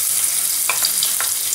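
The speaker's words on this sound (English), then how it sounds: "Now we'll put the medium sized onion, which is finely chopped, into the oil." Finely chopped medium onion sizzles steadily in hot oil with mustard seeds and a pinch of asafoetida, a loud, continuous frying hiss with a few brief stirring scrapes, no talking.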